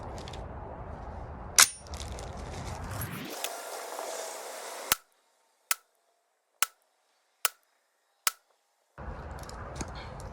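A rifle firing a 75 grain Hornady bullet over 23.8 grains of Shooters World Precision powder, heard as one sharp report followed by several crisp, evenly spaced clicks and cracks amid outdoor range noise.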